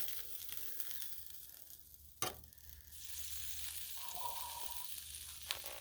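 Shrimp scampi with white wine sizzling on a Blackstone griddle, a faint steady sizzle with a sharp metal spatula scrape partway through and light clinks near the end.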